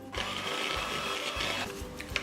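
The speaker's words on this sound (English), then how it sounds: "we will need to mix it up with an electric mixer until it is light and fluffy" An electric mixer whirs steadily as it beats very soft, gooey butter for frosting until light and fluffy, a close, continuous motor hum with slight changes in load and no talking.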